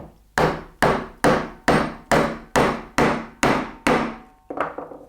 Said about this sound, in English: chop in the same direction, but I've now got the bevel upright